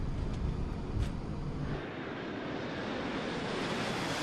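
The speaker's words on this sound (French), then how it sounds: "L'avion a décollé de l'aéroport international de Tocumen au Panama" An airliner of West Caribbean flight 708 takes off from Tocumen International Airport in Panama at night, its engines giving a broad, loud roar that settles into a steady rumbling wash.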